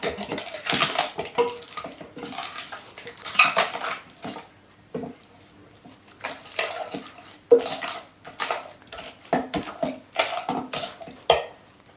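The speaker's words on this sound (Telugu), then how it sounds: "ఇలాగా పప్పు గుత్తితో మెత్తగా ఎనుపుకోవాలండి" Cooked tomatoes and dal being mashed with a wooden dal masher in a pot, irregular bursts of thudding and clattering against the vessel with short pauses between, no speech.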